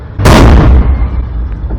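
A car tire bursts after striking a deep pothole on a road, a single loud close explosive bang followed by a rumbling decay and road noise as the car keeps rolling.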